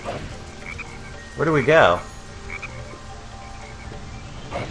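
A green frog croaks in the Sonic Heroes video game, a loud two-part warbling croak in the middle of the clip over quiet game ambience, with a person talking briefly.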